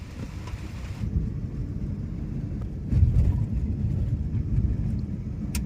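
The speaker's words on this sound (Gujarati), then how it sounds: "હવે ચાલુ વરસાદ છે" Muffled, steady rain with a deep rumble underneath, growing heavier partway through and continuing without a break.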